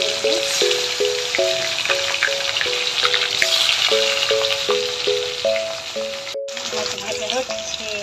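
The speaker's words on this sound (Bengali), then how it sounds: "লাল লাল করে মাছটা ভাজতে হবে" Pangas fish sizzles in hot oil with a steady crackling hiss, partly covered by a melodic tune that plays over it throughout.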